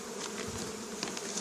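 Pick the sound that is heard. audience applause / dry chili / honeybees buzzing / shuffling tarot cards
honeybees buzzing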